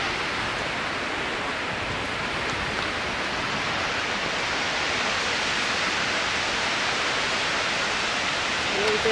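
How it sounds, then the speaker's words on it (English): A waterfall on Iceland's south shoreline roars as a steady, broadband rush of falling water, close and continuous throughout with no breaks. "Another short video of another waterfall."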